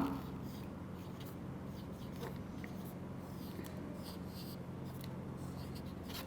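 Writing during an online Urdu lesson for class 1, a faint continuous scratching of pen or pencil on paper over low room hum, with no talk.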